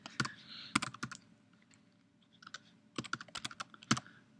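Bursts of keyboard typing as login details go into a computer, quick clustered key clicks with a pause in the middle, close and fairly quiet.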